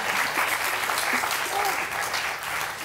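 Studio audience applauding during a television game show final: a dense, continuous burst of clapping that stays loud and even for about three seconds.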